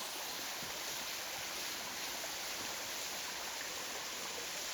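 A waterfall on Gökçeada island gives a steady, even rush of falling water that fills the whole stretch without pause, with no voices over it.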